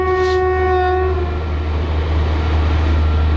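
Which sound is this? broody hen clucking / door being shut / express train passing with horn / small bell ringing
express train passing with horn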